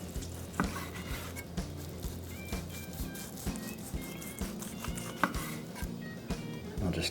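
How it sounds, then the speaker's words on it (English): A knife slicing a smoked chuck roast as thin as possible, giving soft repeated cutting taps at an unhurried pace with faint squishy contact against a board. "I'll just take my time and let the knife do the work"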